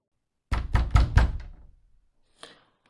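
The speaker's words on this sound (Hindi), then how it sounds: "उन्होंने दरवाजा खटखटाया।" Knuckles rap on a house door at night, a quick series of four or five loud, close knocks, then after a pause one faint single tap.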